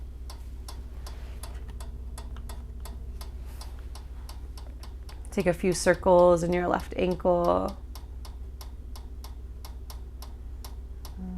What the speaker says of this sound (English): Unfortunately, the air conditioner is just ticking away, or not air conditioner, but heater.